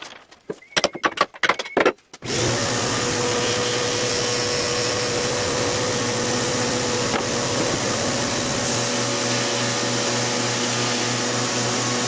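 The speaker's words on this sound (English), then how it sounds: "I'll have to grind that down and try it again" A belt grinder works a screw down, giving a steady, loud, continuous whirring grind for about ten seconds after a few short clatters of handling, with the pitch shifting slightly near the end.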